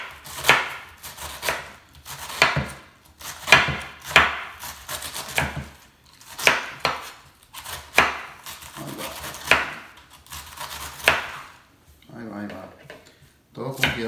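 Knife finely chopping cabbage for taco topping on a wooden board, giving a series of crisp, rhythmic cutting strokes that come in short bursts, with someone talking in Spanish over and between them.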